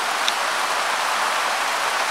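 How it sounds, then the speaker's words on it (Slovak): Heavy rain pours down on a cottage in the woods, a dense, even roar of drops that stays loud and unbroken, with no voices. "Nie, že prší, ale leje"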